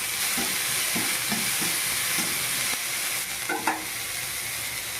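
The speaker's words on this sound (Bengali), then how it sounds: "এখন কর্নফ্লাওয়ার দিয়ে স্যুপ বানিয়ে দিচ্ছি।" A pan of vegetable soup thickened with cornflour cooks over heat, giving a steady close sizzle and hiss with soft intermittent stirring clinks and bubbling.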